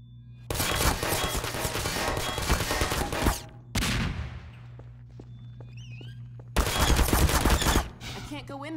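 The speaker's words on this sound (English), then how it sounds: "Take that turret down, Gordon" Automated turret gunfire in Half-Life 2: Episode Two rattles in two long, loud bursts separated by a quieter gap with scattered thuds and a faint voice.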